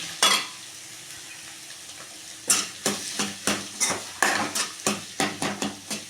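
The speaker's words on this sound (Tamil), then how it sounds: "அடுத்தது நம்ம வெங்காயம் போட்டுக்கலாம். வெங்காயத்தை நல்லா கிண்டிக்கலாம்." Onion being stirred and fried in a pan, with a lively sizzle and a quick run of repeated scraping, clattering stirs that grow steady and rhythmic after a brief pause.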